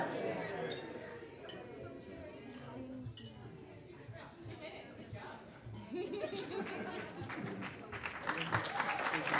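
At a wedding reception after a toast, glasses clink amid a crowd's murmuring, chuckles and scattered applause, the room noise swelling louder toward the end with people talking throughout.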